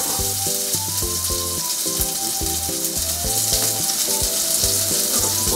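Diced steak sizzles loudly in a pan with garlic and rosemary, a dense continuous frying hiss that holds steady throughout, close up and without speech.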